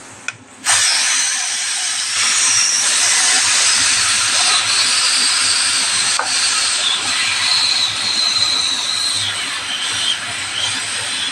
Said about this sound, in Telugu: ఫోర్ విజిల్స్ వచ్చినాయండి.